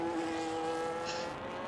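Race cars in the F1 25 racing video game during a British round: a steady, droning engine note holds at moderate level, with a brief brighter burst partway through and no talk.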